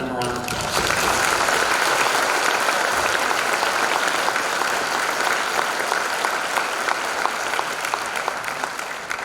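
A school audience applauds after a spring band concert performance, steady, dense clapping that fills the room for the whole stretch and tapers only slightly at the end.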